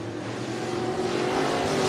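Race car engines at Cottage Grove Speedway, Oregon, a dirt oval racing event, droning steadily and loud at mid distance with a rising engine tone, no talk.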